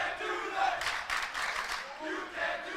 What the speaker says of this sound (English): That's the big man Jalen Smith hearing it from the crowd